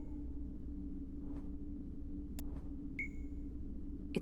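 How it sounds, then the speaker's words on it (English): A device in the video game Dreamfall Chapters gives off a few sharp electronic beeps and pings, including a bright ringing tone near the end, over a steady low ambient hum. "It's beeping."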